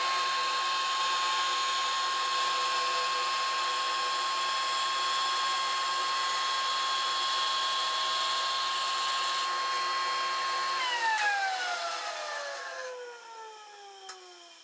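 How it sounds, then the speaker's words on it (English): A bandsaw cutting a laminated wood strip of six or seven glued layers, running with a loud steady whine that holds for about ten seconds, then winds down as the blade coasts to a stop. "we'll run this through the bandsaw and see what kind of pattern we get off this laminated strip"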